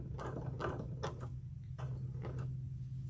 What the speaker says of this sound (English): And just sew along the edge and tack that down.